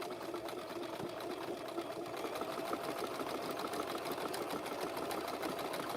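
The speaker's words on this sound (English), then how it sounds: "So we're going to stitch over that." Sewing machine stitching over beads on a coiled rope basket, a fast, even mechanical rattle of the needle running continuously and close up, with no speech over it.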